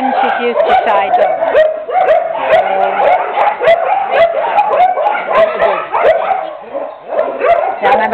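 Several dogs in a dog play yard yip, bark and whimper in a rapid, overlapping chorus, loud and close throughout.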